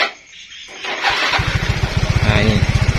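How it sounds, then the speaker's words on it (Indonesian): Yamaha Mio M3 125 motorcycle with a battery charging fault cranks on its electric starter and catches, settling into a close, steady rapid putter of the running engine. "contohnya seperti ini. Saya tes starter."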